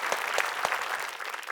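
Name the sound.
applause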